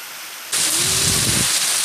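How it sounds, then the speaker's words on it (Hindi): Heavy rain starts abruptly and roars as a dense, loud hiss of water pouring down, continuing steadily after a quiet opening. "इतनी तेज बारिश हो रही थी"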